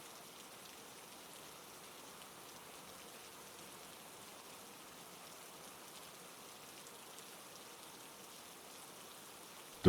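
Slow, soft rain drizzles steadily over a forest, a faint, even hiss of drops with no voices.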